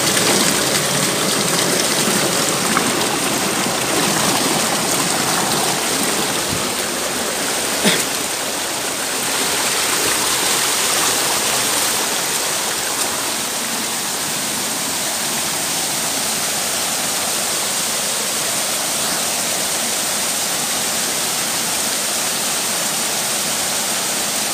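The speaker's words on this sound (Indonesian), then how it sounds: "Ya, ini airnya keluar dari mata air yang berada di tebing." Dense, steady hiss of spring water pouring out of a steep cliff face, a close continuous rushing and splashing with no talk.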